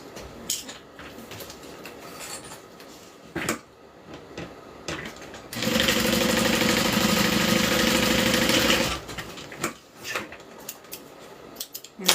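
A sewing machine runs in one steady, loud, continuous burst of about three seconds while the side panel of a fabric bag is stitched to its bottom, with quieter handling clatter before and after.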